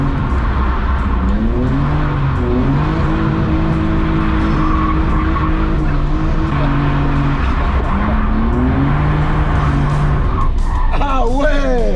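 A drifting car slides around a race circuit on a track day, its engine revving in rising and falling waves while tires squeal and skid loudly and continuously, close and dominant, with voices talking beneath.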